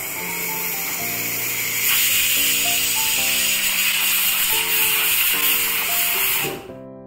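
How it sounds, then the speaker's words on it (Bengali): A pressure cooker holding mixed vegetables releases a loud, steady steam hiss that runs unbroken for about seven seconds over soft background music, then cuts off abruptly. "সব রকম ভেজিটেবলস আমি প্রেশার কুকারে দিয়ে 2টো সিটি মেরে নেব।"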